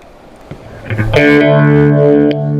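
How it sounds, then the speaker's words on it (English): An electric guitar chord played through a phaser rings out with a slow, sweeping swirl, sustained and loud after a brief lead-in. "Then I have the phaser."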